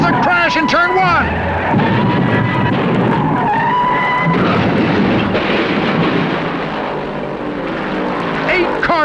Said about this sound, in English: There's a crash in turn 1.